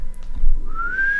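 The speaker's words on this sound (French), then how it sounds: "Je vais siffler les Faldan pour qu'ils viennent." A person gives a short rising whistle to call the Faldan, close and clear after a brief rustle, ending on a sustained high note.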